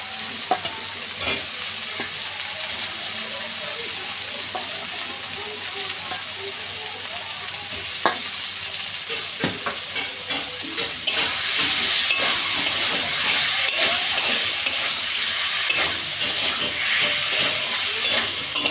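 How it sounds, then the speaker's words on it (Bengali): Potatoes sautéing in a pan of cooked-down spice masala for a fish curry, a loud constant sizzle and hiss with repeated spatula scrapes, growing fiercer about two-thirds of the way through. "তো আমার মশলাটা কষানো হয়ে গেছে, এর মধ্যে আলুগুলো দিয়ে আর এখন একটু কষিয়ে নেব।"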